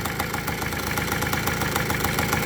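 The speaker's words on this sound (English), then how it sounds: "On the engine here, I put a new carburetor." A 1980 Vespa Piaggio Grande moped with a new carburetor idles close by, its small engine putting out a rapid, even ticking putter that stays loud and steady throughout.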